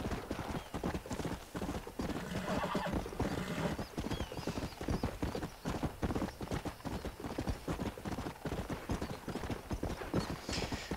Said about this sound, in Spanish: bonito el caballo este